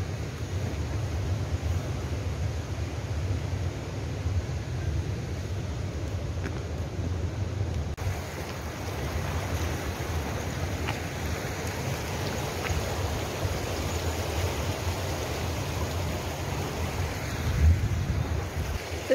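Steady, full rush of the Vrelo River's flowing water on Tara Mountain in Serbia, a constant close wash with no voices.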